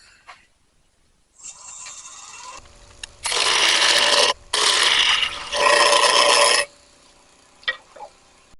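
A small piece of walnut being turned on a lathe: a loud, steady rasping, whirring grind comes in three long bursts with brief breaks between, preceded by a quieter mechanical hum and followed by faint clicks.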